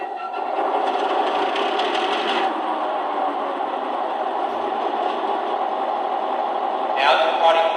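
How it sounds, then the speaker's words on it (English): MTH uncatalogued Long Island C-liner model train engine running on a layout, a steady whirring motor hum with rail rumble that holds evenly throughout, with brief brighter bursts near the start and end. "So what I'm going to do is turn the engine on and run it around for a little bit."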